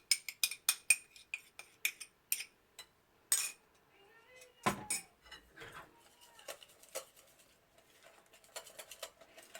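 Banana fritter batter with melted butter is mixed in a bowl, giving sharp clicking and tapping of a utensil against the bowl in quick bursts, then softer, irregular stirring sounds.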